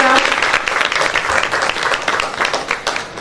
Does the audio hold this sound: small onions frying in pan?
no